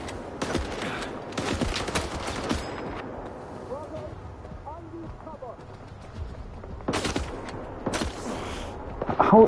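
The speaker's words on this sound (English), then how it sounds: "How he's shooting me through the concrete wall again" Enemy gunfire in S.T.A.L.K.E.R. 2 rattles in dense bursts of rapid shots, loud and close, with quieter stretches between the volleys.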